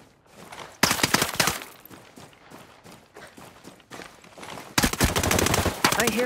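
Bursts of rapid gunfire crackle in two loud volleys separated by quieter scattered shots and shuffling.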